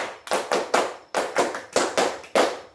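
A classroom group claps a short patterned rhythm together, about nine crisp, sharp bursts in an uneven beat, loud and close with no voices over it.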